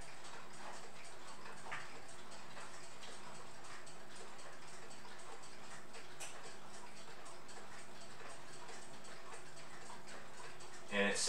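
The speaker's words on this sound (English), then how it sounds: "Here is the back of my quartz Westminster chime mantle clock. I believe it is actually safe to turn back, so I am going to give it a try." The hands of a quartz Westminster chime mantle clock are turned back by hand, giving a steady run of small, close ticking clicks over a faint hiss.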